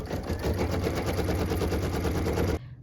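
An embroidery sewing machine stitches a cut line for a pieced quilt block, a steady rapid mechanical chatter running loud and continuous, then stopping abruptly near the end.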